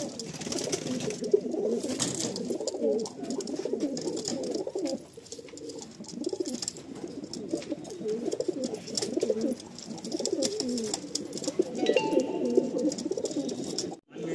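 Pigeons kept in a loft with eggs and chicks give steady, overlapping low coos close by, the rolling calls continuing without a break.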